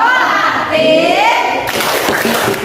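A standing school class plays the tepuk IPA clap game, voices chanting in a sing-song line and then giving way to quick rhythmic hand claps from the group, close and lively.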